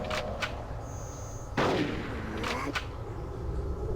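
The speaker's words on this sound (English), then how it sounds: "Shotgun to the face." Shotgun blasts in the game Conker's Bad Fur Day during a zombie fight, several sharp, loud booms spaced unevenly, the strongest around the middle, with a faint high tone in the background.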